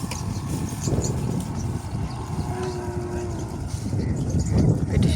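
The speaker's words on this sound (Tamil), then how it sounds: "பெரிய பெரிய நாம்பன் மாடுகள் எல்லாம் வந்து வண்டி இருக்குது பாருங்க." Large bulls stand on a path, with low lowing and bovine grunts over a steady rumbling background, while people talk faintly in the distance.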